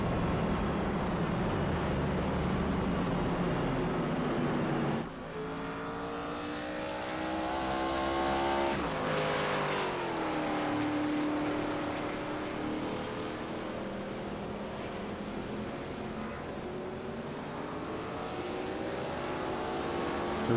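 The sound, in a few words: race cars at Pocono in a racing video game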